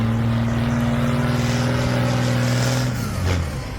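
An Alvis Stalwart amphibious military truck drives past nearby, its engine a loud, steady drone with strong low harmonics. The engine eases off near the end. No one speaks.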